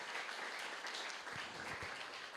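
A church congregation applauds in a faint, steady wash of clapping that fills the short stretch without a break.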